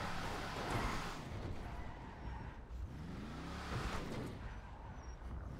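A car drives in a roleplay video game, its engine a steady low drone with a couple of swelling passes and shifting pitch, moderately loud throughout.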